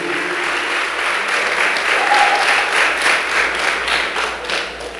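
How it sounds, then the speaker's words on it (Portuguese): Congregation at a church service clapping in a sustained, dense round, moderately loud and roomy, with no talk over it. "Pode aplaudir a Jesus, aleluia."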